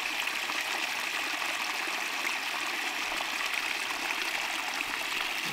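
Spring water from a natural source on rural land flows in a steady, continuous rush, heard close and fairly loud throughout with no voices over it.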